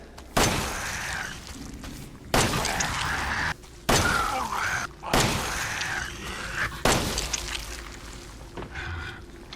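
A Makarov handgun fires enhanced ammo in Resident Evil 7: five loud, close shots spaced about two seconds apart, each a hard blast with a long echoing tail and wet impact sounds.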